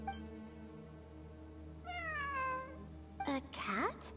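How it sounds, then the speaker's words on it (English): A cat meows twice in the video game Genshin Impact, a drawn-out wavering call followed by a sharper, louder one, over a quiet steady background hum. "A cat?"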